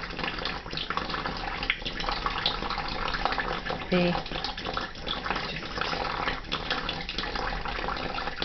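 Steady running tap water splashing continuously throughout, with a brief voice speaking over it.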